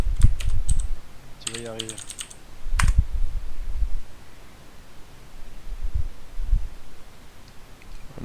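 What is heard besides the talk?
typing on a mechanical computer keyboard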